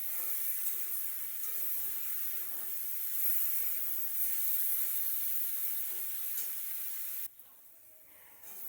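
Potatoes with black cumin seeds frying in a pan over high flame, a steady bright hissing sizzle that carries on evenly and then drops off abruptly near the end.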